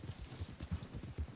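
Rhythmic clip-clop of a gold Palomino Morgan horse's hooves in Red Dead Redemption 2, steady trotting beats repeating close by with no voices.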